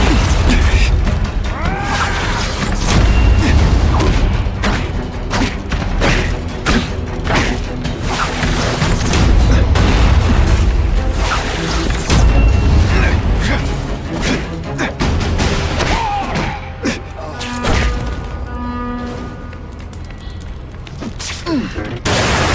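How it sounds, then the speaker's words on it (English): Seismic blast in The Amazing Spider-Man 2 video game, a loud, dense barrage of booms, crashes and mechanical clatter from combat with heavy artillery, sustained throughout with voices talking over it. "Spidey dance party. Well, more of a seismic blast"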